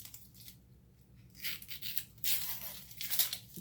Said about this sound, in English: This blue stuff is a very weak tape.